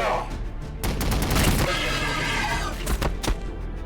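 Dense gunfire and booming explosions in Warhammer 40,000 Battlesector, a loud continuous fusillade with thuds and sharp bursts.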